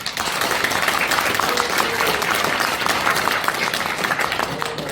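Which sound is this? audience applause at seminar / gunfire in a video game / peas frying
audience applause at seminar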